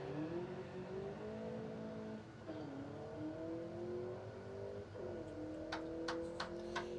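A 2014 Ford Mustang street-legal drag racer launching down the strip, engine revving up through rising pitch sweeps with brief drops at gear shifts, loud and continuous with a few sharp clicks near the end.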